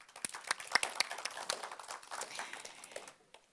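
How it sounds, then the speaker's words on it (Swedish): Quiet, scattered applause from a small audience at an investor day presentation, clapping that thins out and fades toward the end. "Stort tack och en applåd till Jamal."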